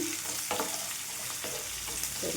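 Thinly sliced onion fries in a pan with a constant bright sizzle, broken by a few short stirring clatters.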